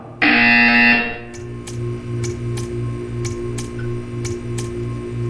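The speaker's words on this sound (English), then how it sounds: "You will hear a buzzer." A loud, harsh buzzer from the video game Portal 2 blares for about a second, then a soft rhythmic ticking and low pulsing tones continue steadily underneath.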